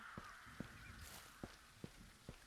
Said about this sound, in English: I heard the crows